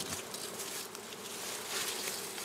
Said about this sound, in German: Hier reinigen wir die Bienenstöcke, damit die Bienen in eine andere Ebene umziehen können